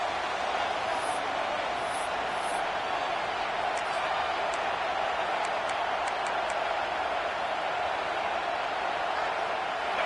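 A packed football stadium crowd roars loudly and steadily as the home fans cheer on their defense on third down, a dense wall of noise holding throughout.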